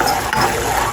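Homemade wax, made at home for facial hair removal, stirred in a pan over a medium gas flame, giving a brief close scraping and clicking churn with a soft sizzle beneath.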